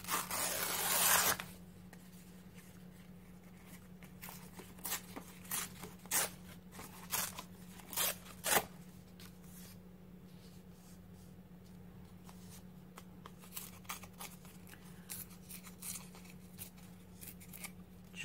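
Scissors make a run of short, crisp snips as paper scraps for a mixed media art journal are trimmed, close and fairly quiet over a steady low hum, after an opening burst of rustling.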